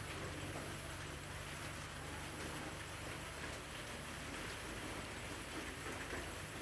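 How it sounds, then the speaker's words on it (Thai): Steady rain hisses continuously at a moderate distance, an even wash of patter with no pauses and no voices. "ตกมาอีกแล้วนะคะฝนนะคะ"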